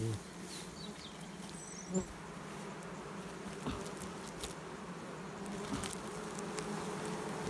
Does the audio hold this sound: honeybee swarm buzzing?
yes